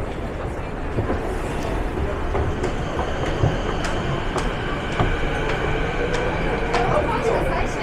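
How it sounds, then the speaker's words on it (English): Vancouver SkyTrain train arriving at City Centre station on the outbound platform, a steady rumble and rail clatter with a faint squeal, close and loud, under an automated announcement and nearby talk. "The next train to arrive on the outbound platform is for YVR Airport."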